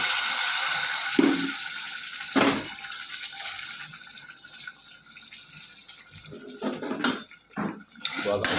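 A spoon scrapes and clinks against a metal pressure cooker pot while stirring curry gravy with water, with wet sloshing and occasional louder knocks throughout.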